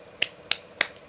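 Three sharp, evenly spaced claps, quiet and close, marking out a children's rhythmic 'tepuk semangat' clapping chant in a classroom setting.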